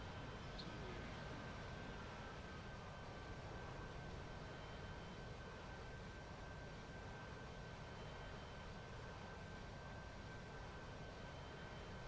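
A Harrier jet in a flight game passes underneath, a steady, distant, faint engine roar that holds evenly throughout with no talk.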